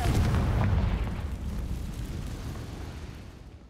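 A Confringo blasting spell detonates in Hogwarts Legacy, a loud deep boom that bursts at once and then rumbles and fades over several seconds, with no talk over it.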